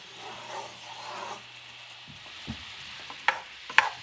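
Homemade glaze for bison back ribs sizzles softly in a pan, a steady close frying hiss with a few light stirring scrapes and clicks of a utensil near the end, no one talking.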